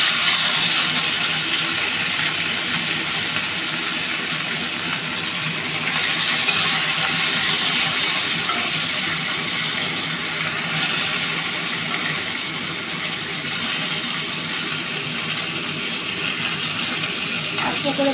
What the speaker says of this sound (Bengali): প্রথমে মাথাগুলো ভাজি।